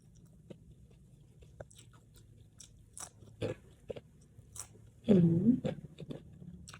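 Close-up chewing of crunchy vegetables eaten with a spicy canned-fish salad, with repeated soft crunchy bites followed by one louder, longer crunch and a brief hum of voice.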